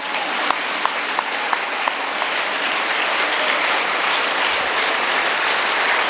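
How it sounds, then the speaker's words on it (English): Children's Day school assembly where students applaud their teachers: loud, dense clapping from a large group that holds steady for the whole stretch, with a few sharp individual claps standing out early on and no talk over it. "let's all stand up and give a big round of applause for the teachers"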